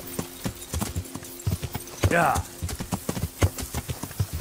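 In the medieval game Kingdom Come: Deliverance, a horse's hooves clip-clop in a quick, steady rhythm up close, with a brief whinny-like cry midway and someone speaking briefly.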